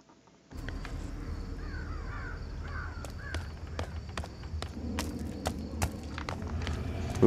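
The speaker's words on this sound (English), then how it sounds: "Ooh, birds." Crows caw repeatedly in the Thief video game, several harsh calls clustered together over a low ambient hum, with scattered footstep-like knocks and clicks throughout.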